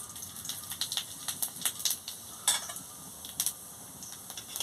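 Whole dried chillies and cumin seeds frying in hot oil in a pan for a bottle-gourd stem, potato and eggplant curry, giving soft crackles and sizzle with scattered clinks of a spoon stirring, no talk.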